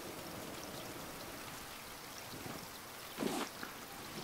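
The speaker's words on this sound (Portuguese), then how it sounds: "Bem, tá de noite e tá chovendo." Steady rainfall at night in the survival game Raft, a constant soft hiss of drops with a brief louder splash near the end, heard alone without talk.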